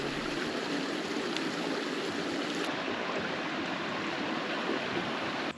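A river in Spain flows in a steady, unbroken rush of water, loud and close, with no voices and no change from start to finish.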